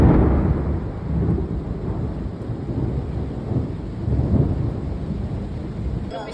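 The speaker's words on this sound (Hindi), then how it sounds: "ये इंडिया की बारिश जो देखने को मिली" Heavy monsoon rain pours steadily in India while low thunder rumbles and rolls through it. The sound is dense and loud at first, then eases a little before swelling again.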